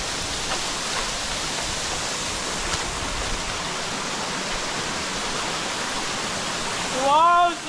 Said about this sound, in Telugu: చూసారు కదా పెద్ద పెద్ద వాటర్ ఫాల్స్